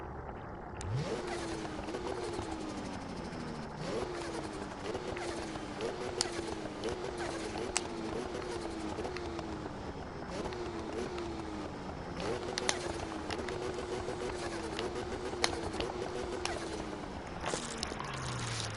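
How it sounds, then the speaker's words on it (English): A turbocharged car engine in the racing game Need for Speed 2015 revs and shifts repeatedly, its pitch climbing and dropping in a steady cycle. Sharp hisses from the blow-off valve sound between gears, and a player talks over it. "Oh my god, I love that fucking blow-off valve."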